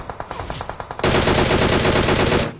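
Automatic gunfire in the mobile battle-royale game PUBG Mobile: a short string of evenly spaced shots, then a dense, loud, continuous burst lasting over a second before stopping abruptly.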